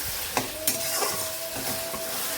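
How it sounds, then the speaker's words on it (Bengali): Sliced onions fry in a pan with a soft, continuous sizzle, broken by a few sharp clicks and scrapes as a utensil stirs them, quiet and close by. "এই যে এদিকে পেঁয়াজটা বসিয়ে দিলাম পেঁয়াজটা একদম লাল করে ভেজে নেবো"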